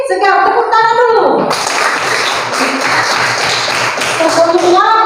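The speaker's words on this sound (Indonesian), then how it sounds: "Tepuk tangan dulu." Schoolchildren clap together in a classroom during a lesson, a loud burst of many small hands that sets in abruptly and runs for a few seconds, with a teacher's voice and children's voices heard around it.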